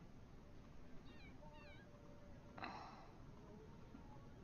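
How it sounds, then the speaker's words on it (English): A cat meowing in a video game, with a few faint chirpy meows and one brighter, louder cry amid a steady background hiss. "Not sure what's wrong with the cat."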